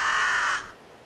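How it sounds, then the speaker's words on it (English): A single harsh raven caw from the Xbox 360 game Bullet Witch, loud and close, then fading quickly into quiet. "Just a raven."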